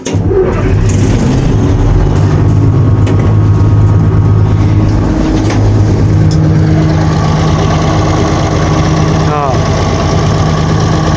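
A Bizon combine harvester's diesel engine cold-starts in frost, running loud and rough right up close with a steady low drone and shifting tone as it idles and is revved, and someone talks over it.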